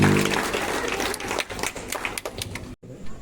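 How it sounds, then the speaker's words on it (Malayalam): A room full of guests at a send-off party claps steadily, a dense patter of hands near and loud that breaks off abruptly near the end before a few scattered claps resume. "കുറച്ചുകൂടെ നമ്മുടെ ജയചേച്ചിക്കുള്ള കയ്യടിയാണേ"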